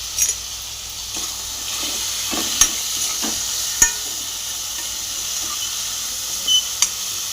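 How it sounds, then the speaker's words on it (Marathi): Cubes of elephant foot yam (suran) frying in oil with turmeric and salt, a soft steady hiss and sizzle with a few sharp clinks of a spoon against the pan, near and fairly quiet. "हे आपल्याला मी अशीच फ्राय करणार आहे"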